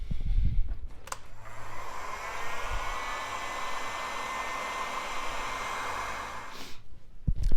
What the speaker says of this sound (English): we'll use a heat gun and shrink them down